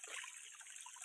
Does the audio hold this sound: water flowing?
yes